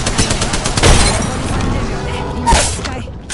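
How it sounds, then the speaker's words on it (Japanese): In the Apex Legends game, a thrown grenade goes off with a loud blast partway through, then a second burst near the end, amid rattling gunfire and a busy battle din. "グレネードを投げるよ。"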